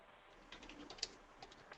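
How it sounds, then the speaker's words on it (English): Soft, scattered keystrokes on a computer keyboard, a few quiet clicks in an irregular rhythm, faint and somewhat distant. "I hear you typing away"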